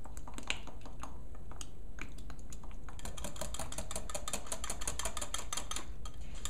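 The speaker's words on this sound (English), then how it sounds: "Wire whisk will make it go together better and easier and faster." Quick metallic ticking of a wire whisk stirring a yeast mixture in a bowl, a steady rapid clatter that grows busier partway through, close and alone.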